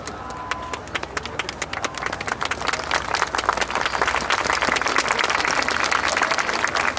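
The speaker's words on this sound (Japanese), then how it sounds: "割れんばかりの拍手ありがとうございます" Audience applause for a yosakoi dance team at a festival at Kumamoto Castle, a crowd clapping steadily and building to a dense, loud patter that keeps going throughout.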